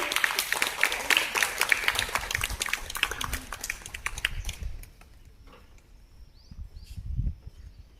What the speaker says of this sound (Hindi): तालियों की आवाज कम नहीं बढ़ना चाहिए।